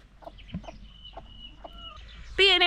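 Backyard farm chickens cluck and murmur close by in short, scattered calls, ending in a louder, sustained squawk.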